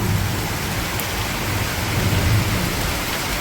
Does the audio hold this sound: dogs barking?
no